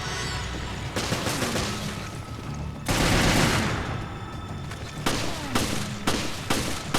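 A handgun fires in the video game Resident Evil Revelations, Raid Mode: loud, close bursts of shots come in several sharp volleys that start suddenly, with a dense, noisy game soundtrack running underneath throughout.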